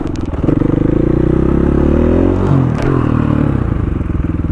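A 2016 KTM 500 EXC supermoto motorcycle engine runs loud and close with a steady low throbbing idle, a brief rev swelling midway, and some light mechanical clatter.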